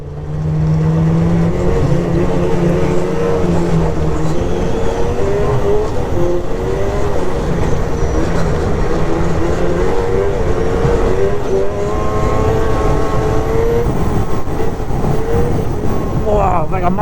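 RXC snowmobile engine revving loudly and steadily while being ridden over bumpy snow, with a continuous droning roar whose pitch rises and falls throughout, close and dominant.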